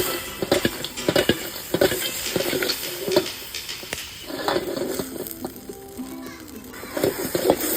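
Chunks of crab stirred in a pan for Sri Lankan chili crab, with repeated clinks and scrapes of a utensil against metal over a faint sizzle, close and irregular, and background voices now and then.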